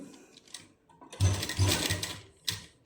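Sewing machine stitching a homemade winter cap, its motor buzzing in short bursts that start, pause and restart close by, with a quieter stretch before the first run.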